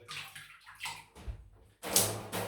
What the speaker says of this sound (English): all I'm going to simply do, wet the brush in warm water